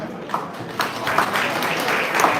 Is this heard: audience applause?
yes